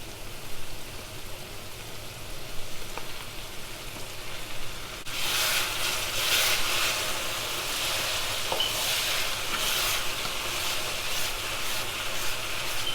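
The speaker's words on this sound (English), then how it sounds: "so it has been frying for a little while, and I'm just going to be adding my blended spices" Tomato and vegetables fry in a pan for stewed cabbage, a steady hiss of sizzling oil; blended ginger, garlic and celery go in partway, and the sizzle suddenly grows louder and crackles with bursts.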